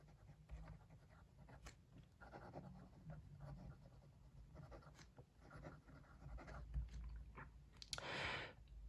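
A Wancher fountain pen with a medium nib scratches softly across paper in short, faint strokes, close and quiet, with no voices.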